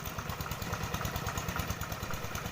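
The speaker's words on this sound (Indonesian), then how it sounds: "Traktor ini biasanya digunakan pada lahan-lahan basah" A farm tractor made for wet paddy fields runs at a steady idle. Its engine throbs in a fast, even chugging pulse with a light mechanical clatter, fairly close, and no one speaks.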